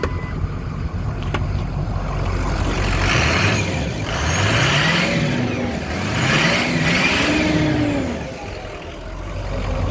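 A 2006 Ford F350 Lariat 4WD pickup revs up twice, the engine note climbing and falling in two smooth swells over a steady idle, loud and close, with no voices.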